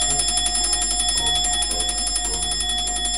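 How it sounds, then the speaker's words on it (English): A continuous, rapid metallic ringing of quiz-time bells, like an alarm bell, runs steadily and loudly for about three seconds. "So if you hear the bells, run back here to Rainbow Sparkle"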